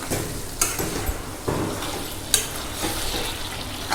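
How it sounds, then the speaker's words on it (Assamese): Meat cooks in a pot for a Sunday special dish, stirred with a spoon that scrapes and clacks against the metal in several distinct strokes over a low, steady sizzle. "10 মিনিট পিছত মই আকৌ মাংসখিনি এনেকৈ লৰাই দিম।"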